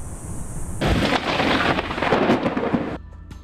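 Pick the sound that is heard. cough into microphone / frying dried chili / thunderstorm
thunderstorm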